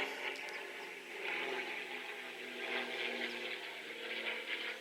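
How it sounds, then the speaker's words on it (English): A steady, distant airplane drone hangs in the background, a soft broadband rumble that swells gently and holds for several seconds without any talking. "And there's an airplane, which you probably hear."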